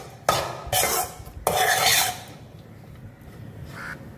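Cooked rice is stirred into cauliflower in a pan for cauliflower coconut rice, heard as a few loud, bursty scraping and rasping strokes of a spoon against metal, followed by quieter rustling and a faint clink.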